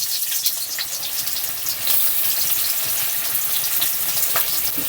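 Onions frying in hot oil in a pan for a Bengali prawn bhapa dish, giving a steady, fairly loud crackling sizzle that runs on throughout, with sharp pops and a brief surge in intensity near the two-second mark.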